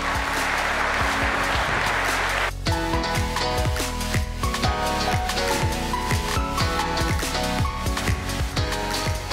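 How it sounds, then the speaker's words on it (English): A keynote crowd at a Linux Foundation open-source conference applauds to welcome a speaker on stage, a dense burst lasting a couple of seconds before loud walk-on music with a steady beat takes over. "please join me in welcoming Arpit on stage with a big round of applause"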